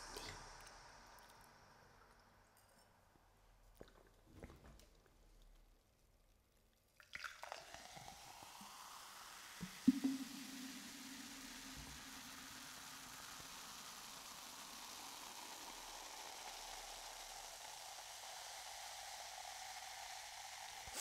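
Cola pours into a glass and turns into a steady fizzing hiss that keeps going, close and quiet, after a few soft clicks.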